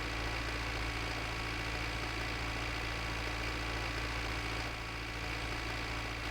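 A tractor engine runs in the video game My Winter Car with a constant, fairly quiet idling drone and a low knocking throb, steady throughout with no talk.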